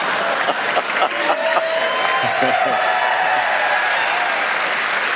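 Studio audience at a public radio comedy quiz show breaks into loud, sustained applause, a dense even roar of clapping with a few faint voices mixed in.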